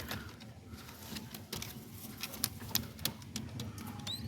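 Cross-breed pigeon chicks in a loft make faint, soft cooing and peeping sounds. Scattered light taps and rustles come and go over a quiet background.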